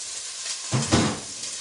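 Onions hitting hot oil in a pan for Rioja-style potatoes, a sudden burst of hissing sizzle partway through that then settles into a softer steady fizz.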